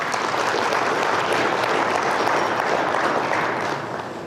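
An audience at a stress-reduction seminar breaks into sustained, dense applause that stays loud throughout and only starts to thin out at the very end.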